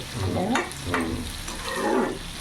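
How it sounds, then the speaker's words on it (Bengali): Small fish and boiled potatoes frying dry in a pan with no water added, a close crackle with repeated scraping stir strokes in an uneven rhythm. "দু তিন মিনিট একটু ভাজা ভাজা করে নেবো"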